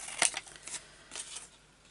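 Scissors snip out a tie shape for a men's shirt gift bag: three or four quick, close, crisp cuts that fade toward the end.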